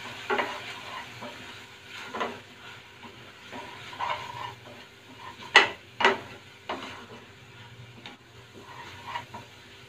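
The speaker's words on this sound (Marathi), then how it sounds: "हे लाल तिखट आणि मसाल्यांचे घातले आपण, हे 2 मिनिटं छान आपल्याला परतून घ्यायचं यात" Kashmiri red chili powder, garam masala and turmeric sauté in a pan with soft sizzling and intermittent utensil scrapes, plus two sharper clinks of metal against the pan near the middle.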